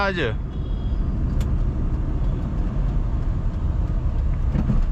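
A Tata Nano car engine runs with a steady low rumble from inside the car, while a voice talks over it throughout.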